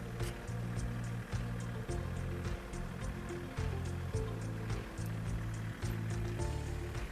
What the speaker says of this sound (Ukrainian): і фреза працює.